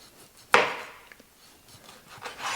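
A knife trimming fat from a cut of lean meat before lard rendering: one sharp close cut or pull, then faint small scrapes and taps, with no talking.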